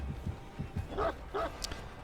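The Houndmaster's dog in the Dead by Daylight video game gives two short yelping barks over a faint low thudding background, with a brief higher squeak just after.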